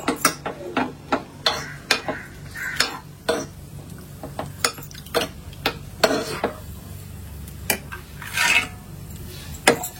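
Cashews and raisins frying in ghee in a pan for a traditional Tamil festival dish, stirred with a spoon that scrapes and clinks against the metal in an irregular rhythm over a faint sizzle, close and without talk.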